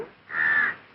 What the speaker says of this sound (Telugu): పల్లెటూరి పక్షులు